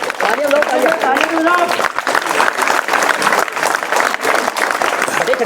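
A crowd of schoolchildren claps continuously at a school prize ceremony, loud, dense applause with an adult voice audible over it.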